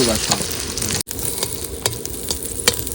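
Egg frying in a kadai gives a steady close sizzle with light stirring scrapes, broken by a brief cutout near the middle, with no talking.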